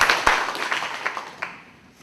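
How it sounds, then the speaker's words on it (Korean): A church congregation applauds its elders in a short, scattered round of clapping that fades out within about two seconds. "박수 한번 내가 보내드립니다"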